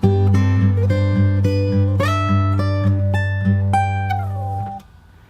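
Fingerstyle acoustic guitar playing the closing phrase of a song, plucked notes over ringing open strings climbing in a short scale, clear and close, ending after about five seconds.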